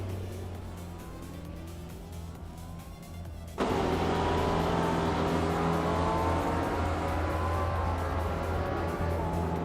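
Race cars in a racing video game: a low idling engine hum, then an abrupt surge of loud engine roar as the pack launches off the line, holding a dense steady growl to the end.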